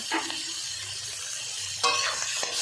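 Chopped onions frying in hot oil for a dried-fish curry, a close hissing sizzle with stirring scrapes, surging louder near the end as they are tossed.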